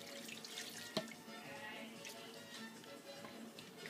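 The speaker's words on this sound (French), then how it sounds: "On met de l'eau, je vais en mettre d'autres par la suite." Water running into a cooking pot for a Dominican sancocho stew, a faint, steady splashing trickle with a small knock near the start, heard quietly and close throughout.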